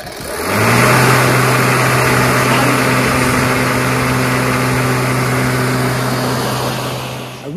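A Powersmart 80V cordless self-propelled dual-blade electric lawn mower spins up and runs at a steady, loud, close whir with a constant low motor hum, holding level for several seconds before tapering at the end.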